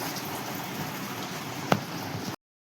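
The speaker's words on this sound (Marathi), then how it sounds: "आमच्याकडे तर खूपच चालू आहे पाऊस." Heavy rain pours steadily outside during a home cooking session, a continuous close hiss of drops with one sharp tap partway through, no voices.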